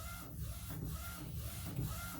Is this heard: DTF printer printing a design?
yes